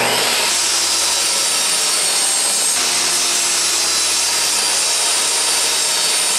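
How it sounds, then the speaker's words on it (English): A table saw rips walnut boards, giving a loud, steady broadband whine that holds through the whole stretch with a slight shift partway, alone without any talk. "First, we'll cut our walnut centers down to 3 inches wide, set the table saw for that."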